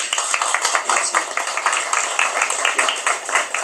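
Audience clapping at a 60th birthday celebration concert, a steady, fairly distant patter of many hands continuing throughout without a break.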